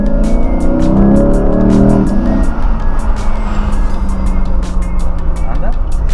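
A Lexus GS F with its naturally aspirated engine pulls hard while driving, a loud, steady, close-up engine roar whose pitch rises and shifts through the clip, with voices present under it.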